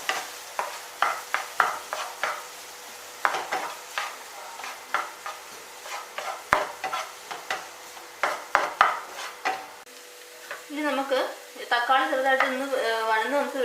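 A spoon stirs chopped tomato in a pan while cooking egg noodles, with a series of sharp scraping clacks against the metal, then a soft sizzle and clinking rising near the end, close and with no talking.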